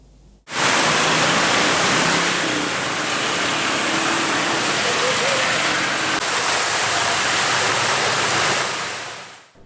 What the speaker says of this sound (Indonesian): volume air di anak sungai Pipareja meningkat